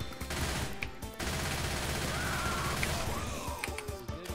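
Rapid gunfire from the zombie shooter Left 4 Dead 2, dense bursts of automatic shots crackling continuously over game ambience, fairly faint.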